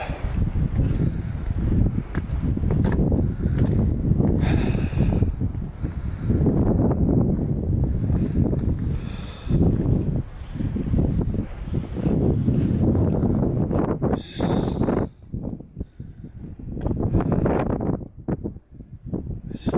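Night wind buffeting the microphone beside a bridge, a steady rough rumble in gusts that eases briefly near the end.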